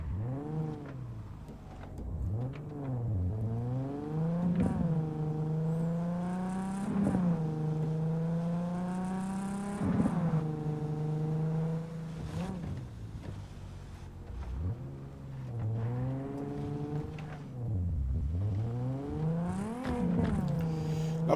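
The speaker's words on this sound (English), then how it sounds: "It feels like they've changed the sound of the car." A car engine in the video game Cyberpunk 2077 hums steadily while driving, its pitch repeatedly climbing and dropping through gear shifts in a smooth, slightly odd synthetic tone.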